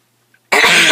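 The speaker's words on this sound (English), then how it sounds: "God, that was a cough." A single loud, harsh cough bursts out close up after near silence, abrupt and rough, filling the last half second.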